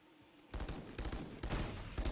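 Pistol gunfire in a Valorant esports match during a pistol-only round, with a quick string of sharp shot bursts repeating roughly every half second, loud and close.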